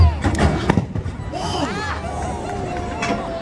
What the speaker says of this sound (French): Adolf, de créer l'explosion au maximum juste avant l'impact de cette voiture.